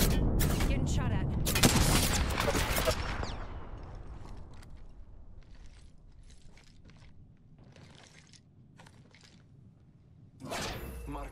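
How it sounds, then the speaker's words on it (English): A loud burst of rapid gunfire in Apex Legends opens the scene, followed by quieter mechanical clicks and clatter and scattered distant shots, then another loud blast near the end. "Shooter nearby. Getting shot at."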